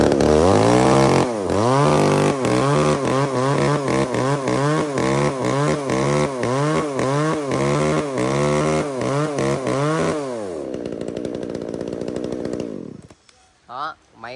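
A used Japanese-market two-stroke chainsaw (STIHL, ECHO, Shindaiwa or Makita) running on mixed fuel, revving loudly in rapid repeated bursts for about ten seconds, then dropping to a steady idle before cutting out, with no talk.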